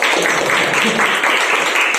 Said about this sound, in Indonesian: yang lainnya tepuk tangan dong buat kita semua